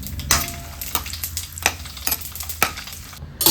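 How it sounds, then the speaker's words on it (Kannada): Cashews sizzle and fry in a pan while being stirred, with soft scraping and crackling strokes close by and no talking. "ಒಂದು 4 ಗೋಡಂಬಿಯನ್ನು ಹಾಕ್ಕೊಂಡು ಹುರ್ಕೊಳ್ತೀನಿ"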